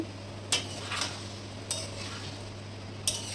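Chickpeas and potatoes being stirred in a pan as a masala cooks down, a soft steady sizzle with a few sharp scraping strokes of the spoon against the pan, faint and close, no talking.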